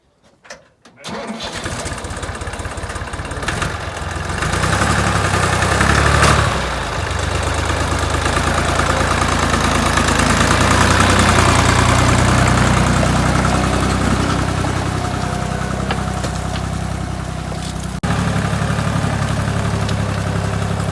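A small farm vehicle loaded with manure for a potato plot cranks and starts, then its engine idles and revs loudly and steadily nearby for about twenty seconds, a low chugging drone with no talk.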